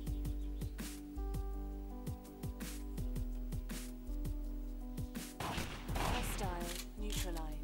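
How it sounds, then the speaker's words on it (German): Rapid bursts of Frozen Synapse gunfire crack repeatedly, with a dense volley of shots near the end and ringing echoes between them. "Er hat auf den Typen geschossen."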